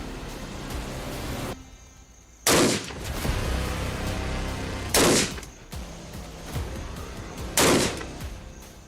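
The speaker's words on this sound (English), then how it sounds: "Rifle is live, range is live, aim at the target, own time." Three loud rifle shots fired at a target on a South African shooting range, each a sharp broadband crack spaced a few seconds apart over steady background noise.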